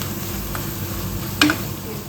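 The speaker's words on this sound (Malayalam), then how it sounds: "നമ്മുടെ ഇഞ്ചിയും ഉള്ളിയും പച്ചമുളകും ഒക്കെ നല്ല വഴന്ന് വന്നിട്ടുണ്ട്" Ginger, onion and green chilli sautéing in a pan for a fish dish, a low steady sizzle with a sharper scrape of stirring near the end, no talk.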